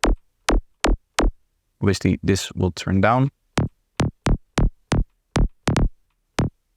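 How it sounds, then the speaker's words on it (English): Synthesized psytrance bass line of short, punchy low thumps in a steady driving pulse, briefly interrupted by someone speaking before the repeating bass notes resume. "Now you get the bass line that sounds like this."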